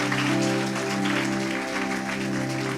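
A church congregation claps for Jesus in a sustained, dense round of applause over steady, held keyboard tones during worship.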